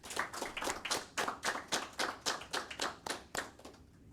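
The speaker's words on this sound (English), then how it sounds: "So, guys, clap it up for yourselves." About fourteen sharp, evenly spaced claps in a steady rhythm at a graduation ceremony for frontline supervisors. The hands come together in unison, moderately close, with no talking over them.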